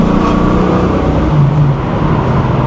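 Loud, close engine roar from a 1971 Chevrolet Nova SS pro touring build, 375 horsepower and four-speed, accelerating along a country road, a steady dense rumble without breaks.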